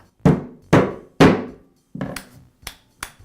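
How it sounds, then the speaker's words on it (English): A rubber mallet taps a cap onto the shaft of a Makita reciprocating saw during an insulation cover repair: six close, sharp knocks, the first three evenly spaced and heavier, then three lighter ones, with no talking. "I'll place the cap over the shaft and tap it into place with a rubber mallet"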